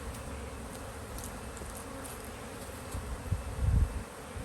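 Steady buzzing of many bees close by around hive frames, a low continuous drone with a brief louder swell near the end; no talking.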